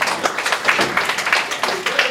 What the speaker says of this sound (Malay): Tepukan kepada akak.